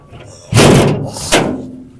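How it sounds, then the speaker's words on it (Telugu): A door slams shut with a loud bang, followed by a second heavy thud a moment later. "డోర్ ఎక్కిచ్చేద్దాం"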